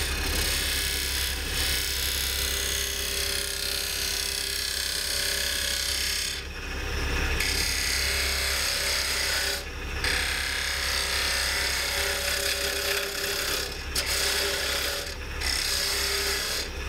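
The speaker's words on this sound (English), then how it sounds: "Cut out the bottom just a little bit." A maple burl box turning on a wood lathe while a tool cuts away its bottom, giving a steady, close scraping and rasping wood-cutting sound with a low motor hum and a few brief pauses.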